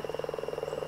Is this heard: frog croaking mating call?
yes